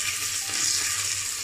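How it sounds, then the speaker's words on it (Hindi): Onions and chopped green chillies sautéing in a pan for mixed vegetable pulao, a steady loud sizzle with faint stirring scrapes, no voices. "और फिर जैसे ही आप अनियन डाल दें इसको अच्छे से सॉटे करिए।"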